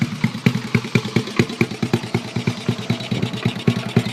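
A Honda motorcycle engine idling close by, a steady, rhythmic chugging pulse with light mechanical clatter, loud and continuous with no talk over it.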